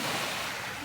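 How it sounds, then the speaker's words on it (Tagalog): Ocean waves at a beach in Quezon wash in as a steady, broad rushing roar with wind noise, continuous and fairly loud for under a second. "Yung alon naman yung alon"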